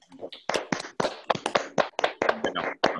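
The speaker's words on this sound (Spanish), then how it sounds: "dar un fuerte aplauso virtual al Servicio de Inmunología y a todo el equipo que preparó el Ateneo" A few people clapping at an online medical case conference held by an immunology service, about a dozen separate claps in an uneven rhythm, fairly close and clear, with no talk over them.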